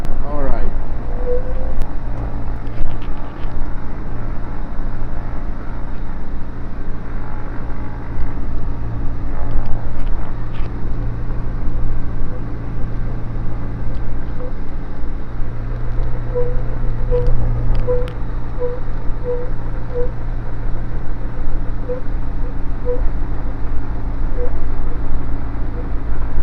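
Piston engine of a 1996 Diamond DA20-A1 Katana single-engine aircraft taxiing on the ground, a steady low droning hum heard from inside the cabin that runs without a break, with occasional faint beeps and a voice talking at times.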